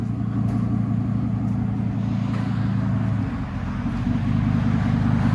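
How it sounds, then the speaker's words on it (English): A Ford F-150 with a 6.8L V10 idles nearby in a steady, loud, low rumble that holds evenly from start to finish, with no voices. "I love that idle, that V10."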